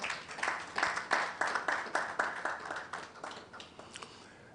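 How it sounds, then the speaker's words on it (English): An audience at the NSMQ 2022 launch applauds sponsor Absa Bank, with many hands clapping in rolling bursts that swell and ebb before tapering off toward the end. "Please, a round of applause for Absa."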